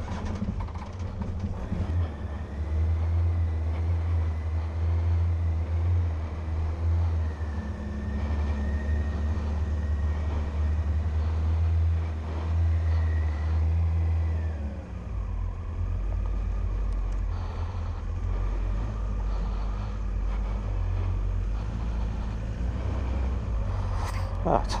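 An engine idles steadily with a bit of choke on, a low, constant rumbling hum close by that shifts and drops slightly midway before carrying on; faint background sounds occasionally rise over it.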